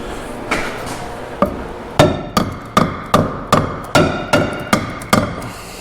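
Repeated hammer blows on metal while working on a 1978 Ford F-250 truck, about a dozen sharp strikes in a steady rhythm, loud and close.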